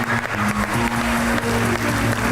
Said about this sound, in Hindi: सलीम अलबेला के लिए तालियां होनी चाहिए